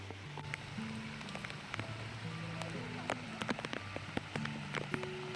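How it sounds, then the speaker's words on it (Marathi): Raindrops fall on the ground and on tree leaves on Ghoravdeshwar hill near Pune, a steady close patter with scattered sharper drips, while birds chirp and call over it. "पाण्याचे थेंब धरतीवर पडताना आणि झाडांच्या पानांवर पडताना होणारा हा आवाज ऐकताय"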